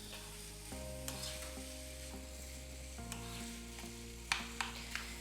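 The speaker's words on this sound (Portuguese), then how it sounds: "Continuamos a mexer." A spoon scrapes and stirs through sizzling food in a frying pan, where pepper and oregano have just been added, with a steady frying hiss, a low steady hum underneath and a few sharp clinks near the end.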